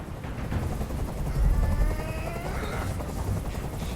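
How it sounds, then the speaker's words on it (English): Helicopter hovering close by in the video game Detroit: Become Human, a steady loud low rotor drone that swells briefly midway, with no voices. "I can't stand that noise anymore. Tell that helicopter to get out of here."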